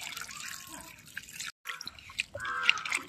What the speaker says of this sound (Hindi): अभी इसको हम धुलेंगे तो इसमें डाल देते हैं पानी।